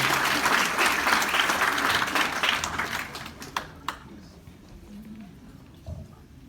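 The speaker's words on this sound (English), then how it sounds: "Please give him a big round of applause, ladies and gentlemen." A crowd at a quincentennial commemoration applauds the Spanish ambassador after his introduction, loud and dense at first, then thinning to a few scattered claps as it fades out, with faint murmuring left in the room.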